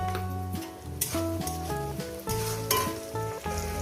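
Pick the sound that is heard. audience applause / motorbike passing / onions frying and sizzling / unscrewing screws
onions frying and sizzling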